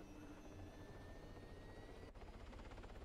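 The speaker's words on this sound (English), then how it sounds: "the chopper's right here on the ground" A helicopter in the video game Arma 3 drones with a steady rotor thump and whining engine tones, loud and continuous with a brief dip partway through, with no talk over it.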